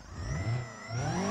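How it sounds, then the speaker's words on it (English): Car engine revving in the BeamNG driving game, fitted with a chicken exhaust on the 2.0-liter engine. The loud, raspy drone climbs in two rising pulls with a brief dip between them, with no talking. "Obviously, you have a chicken exhaust now, so it sounds a little bit different."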